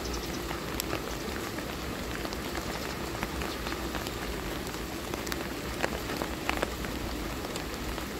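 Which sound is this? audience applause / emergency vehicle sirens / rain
rain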